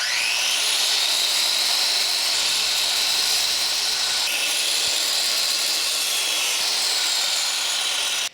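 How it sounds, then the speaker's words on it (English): Chop saw cutting metal stock for a Honda Trail 90 custom part, a continuous loud abrasive whine and hiss with slight shifts in pitch as the cut progresses, no talking. "I'll begin by making some rough cuts with the chop saw"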